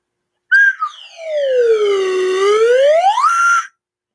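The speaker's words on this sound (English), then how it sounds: "It is a slide whistle." A slide whistle is played alone: a short high toot, then a long tone that glides down and swoops back up, loud and close.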